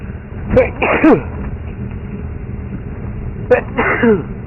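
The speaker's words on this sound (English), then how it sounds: "My morning sneeze." Two close, forceful sneezes a few seconds apart, each with a sharp intake and burst, with no talking between them.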